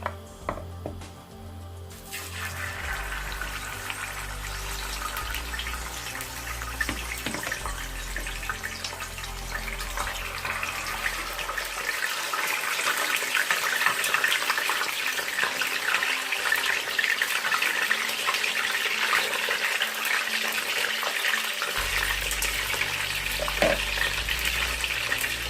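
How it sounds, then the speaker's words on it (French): Fish frying in hot oil for a tomato-sauce fish dish: a steady, close sizzle and crackle that starts abruptly and holds for the whole stretch, with no talking. "Voilà, j'ai chauffé l'huile. Je vais commencer à frire mon poisson."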